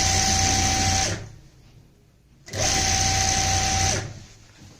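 Two sustained runs of a sewing machine attaching lace around a full-flared lehenga skirt, each lasting over a second with a brief quiet gap between, loud and close.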